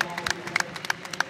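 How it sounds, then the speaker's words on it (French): A football crowd applauds as injured player Daniel Mendy gets back up. The clapping is faint and distant, a thin scatter of separate claps rather than a full roar. "Allez, ça applaudit Daniel Mendy qui a réussi à se relever."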